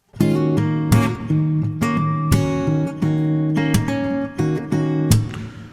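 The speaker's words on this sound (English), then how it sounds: "Playing with fingers, you can add a percussive sound like this." Finger-played acoustic guitar chords with sharp percussive slaps on the strings, forming a rhythmic groove of sustained chords punctuated by crisp hits.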